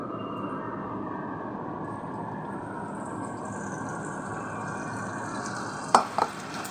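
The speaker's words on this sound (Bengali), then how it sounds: "এবার আমি একটা একটা করে এগুলো সব ভেজে নেব।" Battered cauliflower pieces fry in hot oil for Gobi Manchurian, a steady, even sizzle held at one level throughout, with a couple of brief sharp clinks near the end.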